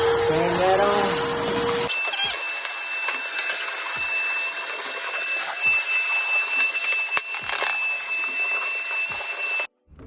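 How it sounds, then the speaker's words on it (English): A loud shop vac motor drones continuously with a steady whine, while the nozzle knocks and scrapes along the floor vacuuming dust during laminate flooring installation, then cuts off at the end. "get yourself a shop vac, turn that on"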